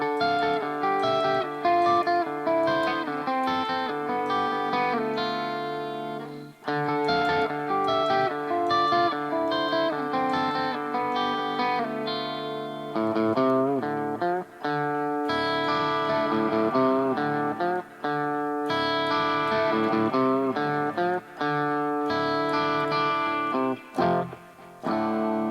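An overdriven electric guitar plays an opening lick, ringing phrases and descending runs repeated over about twenty-five seconds, solo with no talking.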